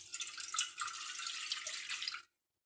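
Water poured from a glass measuring cup into a bread machine pan, a steady bright splashing stream for about two seconds that stops abruptly, with no talking.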